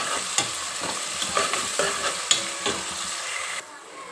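Chopped onions with a pinch of salt frying in a pan, a steady low sizzle broken by several scraping stirs and light clinks of a spatula, close and fairly quiet, ending with a drop in level.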